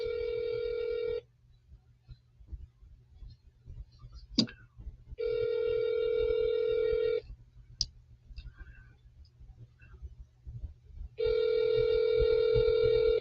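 An outgoing telephone call rings back, three long two-second ring tones spaced by quiet gaps, over a low steady hum and a few clicks, with no voices.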